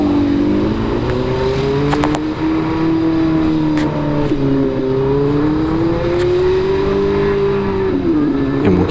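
A Yamaha NMAX 155 scooter revving with a modified exhaust tuned to sound like a four-cylinder big bike, giving a loud, continuous, close-up drone that rises and falls smoothly over several seconds.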